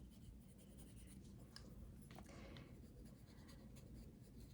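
Graphite pencil scratching and shading on sketchbook paper, close and quiet, with continuous strokes and brief quicker flicks, steady rustling texture throughout.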